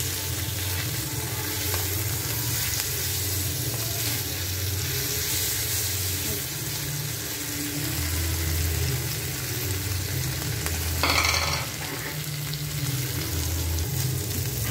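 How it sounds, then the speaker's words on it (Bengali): Puti fish fry lightly in a pan with a continuous close sizzle, steady throughout, with a short scraping stir partway through and no talking. "একটু হালকা ভাজা দিয়ে রান্না করি"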